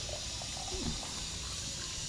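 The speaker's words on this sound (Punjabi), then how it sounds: "ਆ ਮੈਂ ਭਰੀ ਜਾਂਦਾ ਪਾਣੀ ਮੈਂ ਕਿਹਾ ਪਾਣੀ ਭਰ ਲਗੇ ਤੇ ਫਿਰ ਇਹ ਟੂਟੀ" Tap water runs steadily while bottles are filled, a continuous close rushing and splashing stream without pause and with no talk over it.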